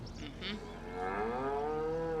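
A single cow lows on a farm in Farming Simulator 25, one long wavering moo that swells and holds after a short soft grunt, fairly close over a low steady hum.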